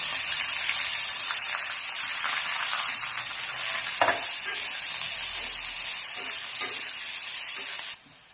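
Two green chillies and onion spit and hiss in hot tempering oil with a pinch of asafoetida, a loud continuous sizzle with faint stirring scrapes that cuts off near the end.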